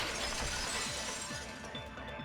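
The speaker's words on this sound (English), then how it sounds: "At the entrance hall, the girls heard the sound of the window shattering." Window glass shatters in the video game Danganronpa 2: Goodbye Despair, heard in an entrance hall scene. A smashing burst spills into tinkling, scattering shards that slowly trail off, all close and fairly loud with no voices.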